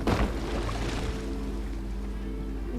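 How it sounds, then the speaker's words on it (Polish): A boat engine in the video game Unravel starts up and keeps running, a low steady rumble with a watery wash over it, fairly quiet and with no talk. "Dobra, odpaliliśmy silnik."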